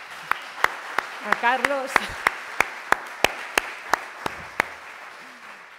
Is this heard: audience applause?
yes